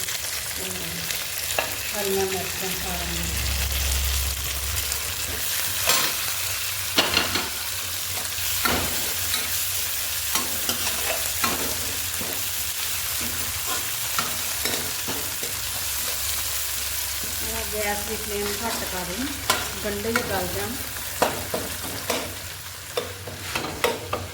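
Radish curry sizzles in a pan as tomatoes go in, with a spoon scraping and stirring through it in repeated bursts over a continuous frying hiss.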